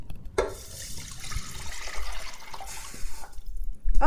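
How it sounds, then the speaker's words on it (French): Water poured into a pan for miso ramen broth, a close continuous splashing pour that swells and settles over a few seconds, ending with a sharper clink. "Alors vous commencez par verser l'eau."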